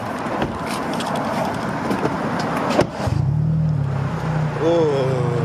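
Kia Optima SXT fitted with quad exhaust tips gives a low, steady engine grumble that settles in after a brief shuffle of movement, with a person talking faintly nearby.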